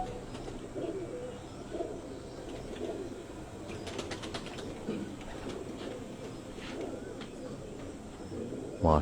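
Pigeons cooing at a racing-pigeon loft, low soft calls repeating through the clip amid background chatter and faint chirps, with brief sharper sounds near the middle.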